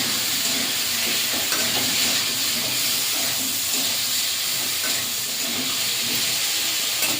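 Steady hissing sizzle of a village-style fish curry masala being sautéed with ground coriander and cumin paste, a dense broadband crackle that holds at an even level from start to finish with no voices.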